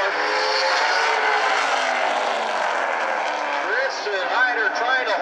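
Super late model race cars roar down the backstretch at South Sound Speedway, a dense, sustained engine drone with a commentator talking excitedly over it.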